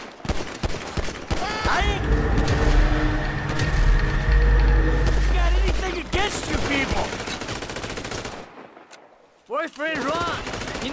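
Pistol gunfire in GTA V: rapid bursts of sharp, loud shots crowd together in a dense exchange over game noise, then a short lull before a few more close shots.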